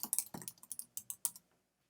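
Typing on a computer keyboard: a quick, uneven run of crisp key clicks at close range for about a second and a half, then quiet, with no talking.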